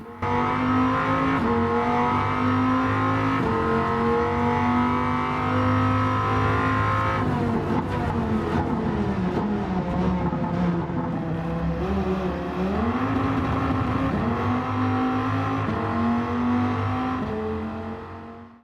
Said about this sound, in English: What about a Viper V10 fitted to some classic Mopar muscle?